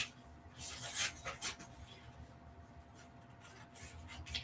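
Scissors cutting necktie fabric on the bias, with close crisp snips and rustling in uneven bursts and a brief louder cluster near the start.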